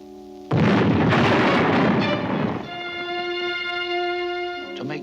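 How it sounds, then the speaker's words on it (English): An ancient cannon fires with a single sudden loud blast that rumbles on for about two seconds, then fades beneath a sustained musical tone. "decides to shoot off this ancient cannon to attract the Black Menace"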